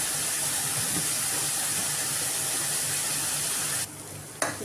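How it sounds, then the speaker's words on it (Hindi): Onion frying in a pan, a dense, steady sizzle and hiss that runs loud and unbroken, dropping briefly near the end before a short stir. "प्याज हमारा देखो भूनने लगा है, इसका कलर चेंज हो गया है।"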